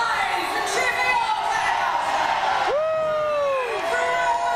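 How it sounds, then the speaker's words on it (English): Audience at a pirate show cheering and whooping in a sustained, loud swell, with a crew member's shouts rising above the crowd. "Alright, purple crew, stand and cheer for your"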